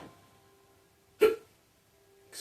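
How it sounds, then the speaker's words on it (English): A single sharp hiccup from a person sits close and fairly loud between quiet stretches, with a second one just starting at the very end. "Excuse me, I have some hiccups"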